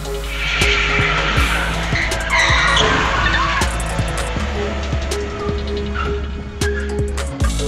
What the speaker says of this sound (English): It's impossible not to smile during the car crash sequence.